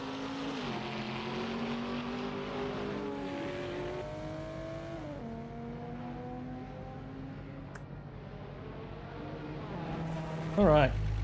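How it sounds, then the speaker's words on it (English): Race car engines in a simulated ATCC touring car race at Sandown, including a Nissan Skyline R31, drone continuously. Rising and falling engine tones step through gear changes, with several cars layered together. "I just love the sound of all these cars though"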